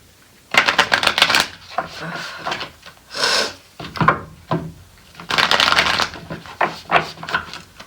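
Tarot cards are shuffled by hand in several close, crisp riffling bursts separated by brief pauses, with light rubbing and tapping of the deck between them.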